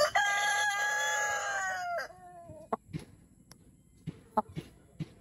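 A black Australorp rooster crows loudly up close in one long drawn-out call, followed by scattered soft clucks and small knocks in a quiet free-range yard.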